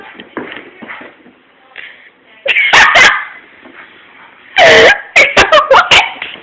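A dog barks in loud bursts, a few sharp barks then a rapid run of them toward the end, amid quieter shuffling sounds.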